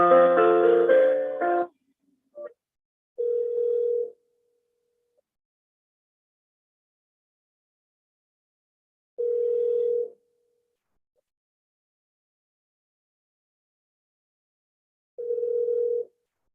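Telephone ringback tone heard during a call transfer, a steady electronic tone repeating three times at long, even intervals after a brief opening sound, with silence between rings and no talking.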